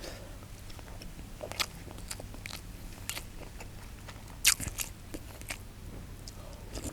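Someone eating chicken larb, with soft, close crunchy bites and chewing scattered over a low background hum, including one sharper crunch near the middle.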